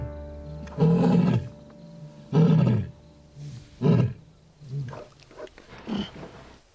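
Deep, rumbling lion roars in the African wild, several long powerful bursts spaced a second or so apart, then fading into shorter grunting calls.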